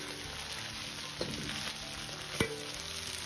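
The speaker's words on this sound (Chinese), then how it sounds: "接着下入10克左右的郫县豆瓣酱，增加酱香味和红亮的颜色，继续保持中小火翻炒" Pixian chili bean paste being stir-fried over medium-low heat in a wok with scallion, ginger and garlic, giving a steady low sizzle with a couple of brief spatula scrapes.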